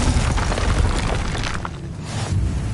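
Spell explosions from Confringo and Bombarda in Hogwarts Legacy on PS5, a dense roaring blast with deep rumbling boom that swells, dips briefly and surges again, loud and close.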